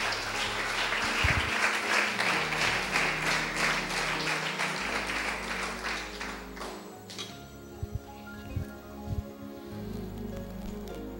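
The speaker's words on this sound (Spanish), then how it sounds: "¿Cuántos aplauden el nombre del Eterno?" A church congregation applauds in a dense, loud wash of clapping that gradually thins and fades after about seven seconds into scattered claps and quiet room noise.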